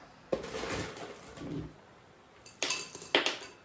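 Rocks are set around a garden plant pot, giving a few sharp clinks and knocks, first one quick clatter, then after a quiet gap a couple of louder, close clacks.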